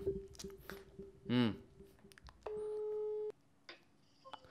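A phone call to Ali being placed: a short ringback-style beep followed by a sustained steady tone lasting close to a second, with faint clicks and quiet background noise around it.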